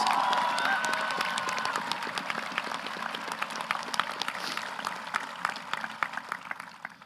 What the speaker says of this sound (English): Let's give these future servicemen and women a round of applause for their future service.